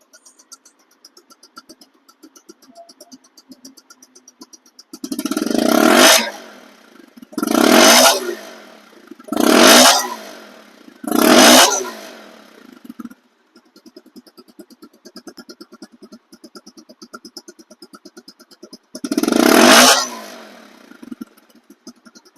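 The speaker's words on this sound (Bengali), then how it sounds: "এখন সাউন্ড কোয়ালিটি শুনুন" A second-hand Bajaj Pulsar motorcycle with one disc brake and about 6,000 km on it idles with a steady putter, then revs hard four times in quick succession, goes quiet to idle, and revs once more.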